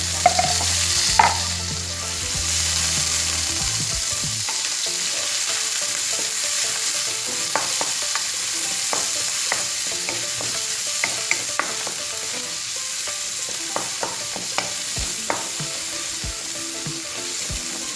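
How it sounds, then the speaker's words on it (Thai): Pork stir-frying for glass noodles with cabbage, a steady loud sizzle running throughout with scattered clicks of a spatula scraping and tossing the meat in the pan. "เราจะผัดให้หมูได้สุกก่อนนะคะ"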